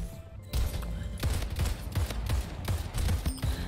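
Rapid pistol gunfire in the arena shooter Splitgate, with repeated sharp shots in uneven bursts over a steady game background, loud and close, no voices.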